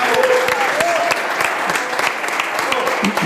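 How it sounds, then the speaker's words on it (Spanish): Steady audience applause at a book presentation, a brisk wash of many hands clapping with a few brief voices and sounds mixed in. "Vamos a volver a aplaudir a Luciano, ¿no?"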